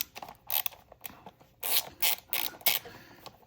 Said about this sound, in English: We're just going to loosen the first 2 bolts.